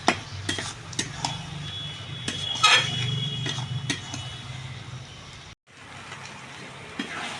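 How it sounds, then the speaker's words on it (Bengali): Potatoes and spices frying and being stirred in a pan for prawn curry, with scraping and clinking of a spatula against metal and a steady sizzle, close by, briefly cutting out near the end. "ভালো করে মশলা দিয়ে কষিয়ে নেব।"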